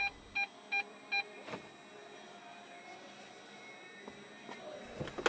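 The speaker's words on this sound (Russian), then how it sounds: "При включении задней передачи активируется задний парктроник." Rear parking sensor of a Lada Largus Cross with manual five-speed gearbox, activated when reverse is engaged: four short, evenly spaced electronic beeps at the start, followed by quiet cabin sounds and faint clicks.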